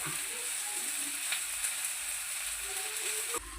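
Onions frying for dal fry hiss in a hot pan with a steady, loud sizzle while a spoon stirs them, scraping softly now and then, with no voices.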